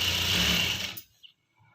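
A sewing machine runs a short, steady stitching burst while sewing piping onto fabric, then stops abruptly, leaving near silence.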